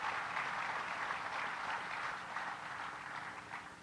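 An audience at a political speech gives a sustained round of clapping, a dense even wash of applause that slowly tapers, heard from a distance without talk.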